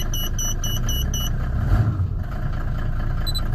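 An OM606 diesel engine in a 4x4 overland expedition campervan rumbles steadily up close, swelling briefly midway as it catches and settles into a running idle, with faint electronic beeps above.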